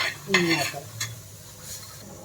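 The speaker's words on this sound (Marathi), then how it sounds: "आता हे थोडंसं भाजून झालं आहे आपलं जास्त नाही भाजायचं आहे असं वरच्या वर भाजून घ्यायचं आहे" Spices dry-roasting in a pan are stirred, a few scraping strokes and light clinks over a faint sizzle, close and brief with no speech.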